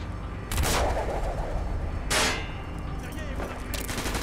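Gunfire in the PC game Call of Duty: Black Ops, loud bursts of shots cracking out in two or three separate volleys over a noisy battle background.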